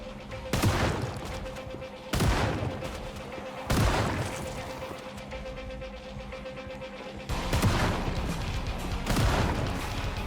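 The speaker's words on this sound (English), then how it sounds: "At least I have a shotgun and I can take out multiple in one shot." Shotgun blasts in the video game Project Zomboid during a zombie horde night, several loud booming shots spaced a second or two apart over a continuous background of game noise.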